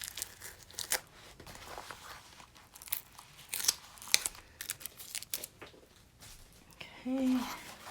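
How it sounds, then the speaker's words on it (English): Several sharp crinkly rips and crackles, close up, in short irregular bursts as sticky tape is pulled away from in-the-hoop embroidery applique fabric, with quiet pauses between. "take my tape off"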